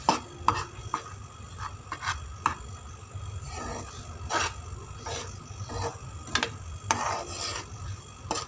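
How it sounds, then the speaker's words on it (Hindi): Spoon scraping and stirring flour as it roasts in a pan for banana halwa, a steady run of gritty rubs and sharp metallic taps against the pot, close and clear with no talk. "इस तरह से चम्मच चलाते हुए हमने इसको भून लेना है।"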